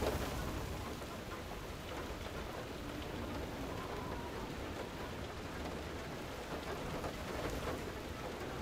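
A rainstorm in the video game FAR: Lone Sails hisses steadily with thunder rumbling low beneath it, soft and constant throughout with no voices over it.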